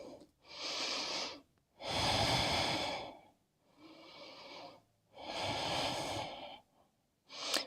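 Slow, deep breaths drawn during a yoga pose in a vinyasa flow class, close and clear, alternating inhales and exhales in about five long breaths separated by brief pauses, with no talking over them.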